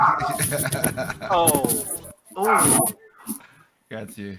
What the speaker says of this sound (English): that's my dog barking at the Chinese neighbors